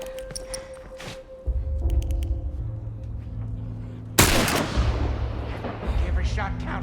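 Gunshots in The Last of Us video game, a few sharp cracks early, then a single loud booming blast midway with a long decaying tail over low droning game music.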